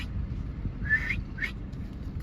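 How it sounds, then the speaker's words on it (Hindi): Someone attempts to whistle outdoors, producing two short, thin whistled notes, the first longer and the second briefer, over a steady low rumble of background noise. "सीटी भी नहीं बज पा रही है।"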